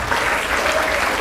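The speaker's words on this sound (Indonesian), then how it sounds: "Aplaus untuk kita semua" Steady applause from a crowd of students at a school election simulation event, continuous and fairly loud throughout.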